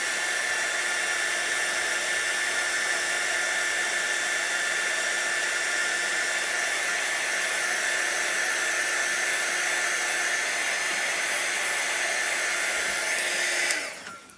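A hair dryer blowing on chalk paste for a craft piece, a loud steady whine-and-rush running unbroken for about fourteen seconds before cutting off at the end.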